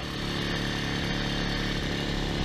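A Puch Maxi 50cc moped engine runs hard and loud, a continuous buzzing two-stroke drone held at high revs close by, with no talk over it.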